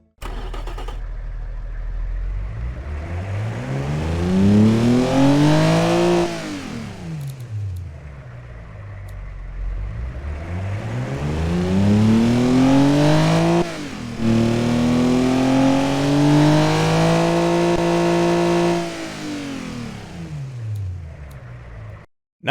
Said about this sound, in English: let's get a hear of what this Boxer 6 engine sounds like